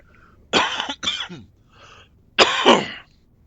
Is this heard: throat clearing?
yes